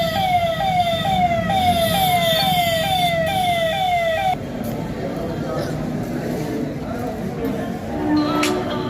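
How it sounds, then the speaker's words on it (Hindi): Police car sirens wail at night during New Year's Eve in Chittorgarh, a loud, close, rapidly cycling siren that then shifts into a steadier wail over traffic rumble. "इस दौरान विभिन्न स्थानों पर सायरन बजाते हुए पुलिस की गाड़ियां भी"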